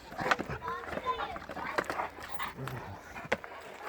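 Dogs at a village farmyard pant and shuffle about close by, with scattered thumps of movement, while people talk over them.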